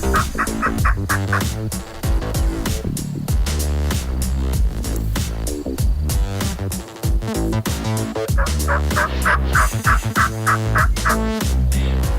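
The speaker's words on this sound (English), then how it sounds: "These turkeys are making me really mad" Wild turkeys gobble in loud, repeated bursts that overlap almost continuously, a chorus of close, rattling calls with few pauses.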